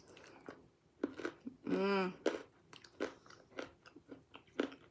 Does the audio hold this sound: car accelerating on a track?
no